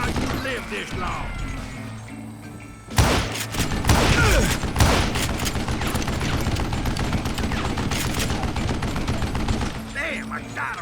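Revolver gunfire in the Call of Juarez Gunslinger video game, a dense run of loud close shots starting abruptly after a quieter stretch and continuing almost nonstop, with speech over the firing.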